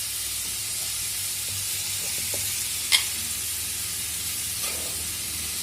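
A potato bonda spice mixture sizzles and fries steadily in a pan, a continuous soft hiss with a faint stir or clink partway through and no voices.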